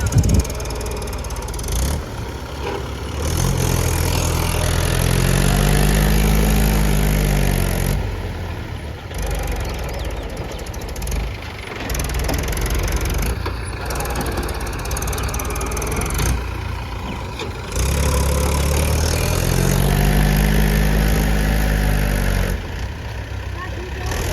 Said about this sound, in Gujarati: આ બાજુ ટ્રેક્ટર ફસાઈ ગયું